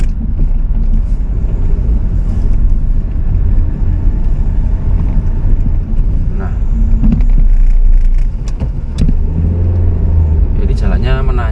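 A car crawls along a narrow road near Trawas, Mojokerto, easing past oncoming traffic, with a steady loud engine and road rumble throughout and a voice faintly present.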